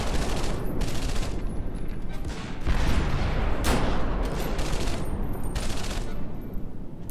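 Dense, continuous gunfire from Medal of Honor: Vanguard, rapid overlapping shots forming a sustained fusillade with heavier bursts near the middle, loud and steady throughout with no talking.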